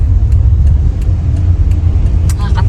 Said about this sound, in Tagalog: tingnan mo yung sasakyan na yun ay hindi siya makaarangkada